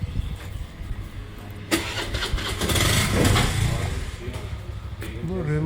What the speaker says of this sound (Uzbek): Bu remote mototsikl ekan.